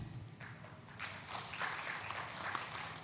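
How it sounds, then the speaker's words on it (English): A conference audience at a G20 side event on decarbonization policy applauds, scattered clapping that swells into a moderate, fairly distant round and holds steady, with no talking. "We're getting a round of applause from the audience."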